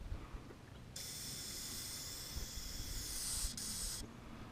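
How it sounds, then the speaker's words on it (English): A steady aerosol spray of Fluid Film rust-proofing oil hisses under a Ram truck for about three seconds, broad and close, with a faint low rumble underneath. "But I just spray that in there."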